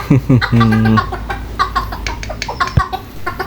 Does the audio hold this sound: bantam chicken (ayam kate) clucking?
yes